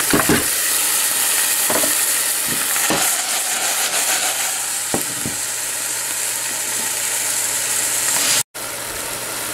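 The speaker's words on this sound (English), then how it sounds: "now I add seeds of surti papdi" Surti papdi seeds sizzle and fry in a pan, a steady loud crackle with occasional stirring scrapes and clinks close up.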